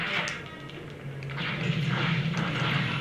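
Repeated blaster shots in the LEGO Star Wars video game crackle through a busy, rumbling mix of game effects, with no clear voice over them.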